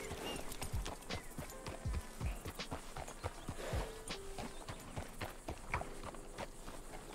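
Horse hooves clip-clop in an uneven walking rhythm in Red Dead, close and fairly quiet, with scattered hoof strikes across the whole stretch and no talk.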